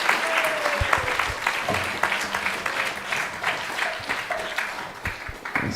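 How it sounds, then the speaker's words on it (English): Audience applause at a Sunday feast program temple talk, a steady broadband wash of many hands clapping that fills the room, with faint voices and a brief tonal sound mixed underneath. "A big round of applause for..."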